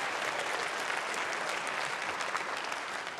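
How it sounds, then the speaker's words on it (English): Conference audience applause filling a large hall, a dense, continuous wash of many hands clapping at an even level throughout, with no voices breaking through. "So let's give him another round of applause while he's actually doing the job."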